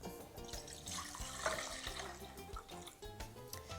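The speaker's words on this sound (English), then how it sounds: "So the first thing that we're going to do is add the water to our pan, a medium saucepan." Four cups of water poured into a medium saucepan on a stovetop for cooking steel cut oats, a soft continuous splashing gush heard quietly and up close with no talking.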